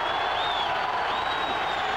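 Crowd at a WBC world heavyweight title fight between Lennox Lewis and Zeljko Mavrovic roars in a steady, dense wash of cheering that fills the whole moment without a break.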